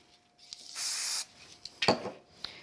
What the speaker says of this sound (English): I'm going to pop a little bit of spray glue on the back of the pink on each of them